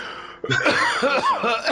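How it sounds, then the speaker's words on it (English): A man coughs in a short, harsh burst that breaks into laughing, close and fairly loud after a brief quiet moment. "I'm like coughing"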